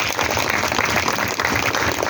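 Applause from a school audience for a municipal sanitation worker, steady dense clapping from many hands through the whole stretch, fairly loud and continuous.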